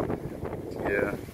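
Gusty wind roars steadily across an open-air microphone on a windy fishing outing with iguanas nearby, a constant low rumble buffeting the mic throughout with a faint voice murmuring underneath.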